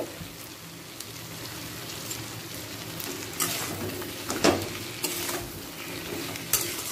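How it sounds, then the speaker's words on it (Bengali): Fried bhetki fish bones and a small tomato are stir-fried in a pan: a low sizzle under repeated scraping strokes of a spatula, with several sharper clacks toward the end. "টমেটোর সাথে দিয়ে দেব ভেটকি মাছের কাঁটা, যেটা আগে থেকেই ভাজা ছিল।"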